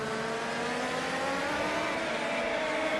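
An Indycar from the URD mod pack in the Assetto Corsa racing game drones from the in-car view with a loud, steady, nasal engine tone held at high revs throughout.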